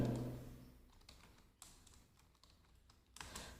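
Close-up tapping on a computer keyboard while entering data in an Excel spreadsheet, with quick clusters of keystrokes separated by brief pauses and no talking.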